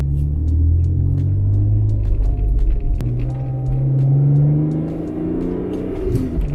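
A BMW E46 M3 with a manual gearbox rumbles along on a drive through town. Its engine note swells and eases through light acceleration and a shift, heard close and steady with no talking.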